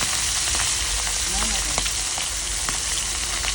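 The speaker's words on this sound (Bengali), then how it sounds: "আমি 3টা করে ইলিশ মাছ ভাজবো।" Hilsa fish frying in a small kadai pan, three pieces at a time: a steady, close sizzle of hot oil with scattered pops and crackles, no voices.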